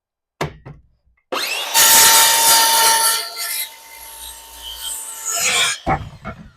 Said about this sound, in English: So what we're going to do today is use this miter saw.